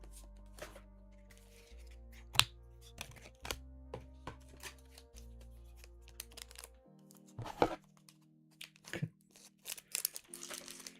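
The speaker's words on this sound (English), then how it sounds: "Whoa, what's crunching?" Crinkling and crunching of packaging sounds while a box of Flesh and Blood Compendium of Rathe trading cards is unboxed. Scattered sharp crackles and snaps come over a soft background of sustained musical tones.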